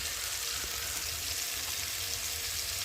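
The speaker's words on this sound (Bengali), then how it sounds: "একটু ঢাকা দিয়ে ভেজে নেব সবজিটাকে" Mixed vegetables and small soybean chunks fry in a covered pan, a steady, quiet, even sizzle with no pauses throughout.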